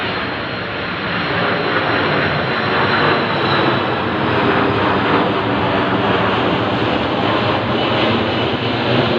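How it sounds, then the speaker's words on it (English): Loud, steady roar of a fixed-wing airplane passing overhead, its engine noise broad and sustained without a break, no voices. "I think that's the last plane that I should film for the day"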